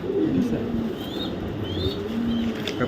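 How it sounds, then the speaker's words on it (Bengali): Low, throaty cooing from BRPFC racing pigeons repeats in soft rolling bursts nearby, with brief higher chirps above and faint background rumble. "আমি একজোড়া কবুতর খুঁজতেছি ভালো মানের টপ কোয়ালিটির"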